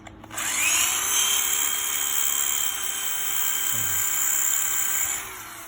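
A power drill powered by a 24V 3kW solar inverter on a smoothie truck spins up and runs continuously with a high, steady whine, nearby and loud, then winds down at the end; no talking.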